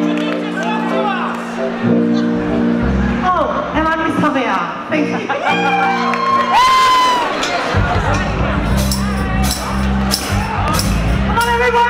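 A crowd at the Granville Boys Eid dinner cheers, whoops and shouts loudly and continuously, with voices calling out over the noisy celebration.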